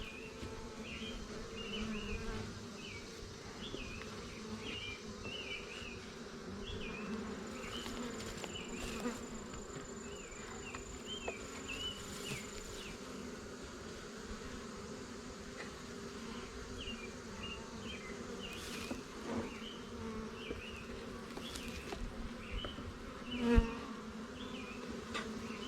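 Honey bees buzz around hives in a steady, fairly quiet drone, with individual bees zipping past in short passes and a faint knock near the end.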